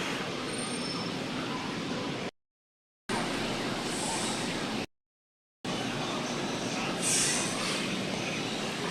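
An electric train rumbles past with steady broadband rail noise, briefly broken by gaps, and a faint high wheel squeal near the end; no voices.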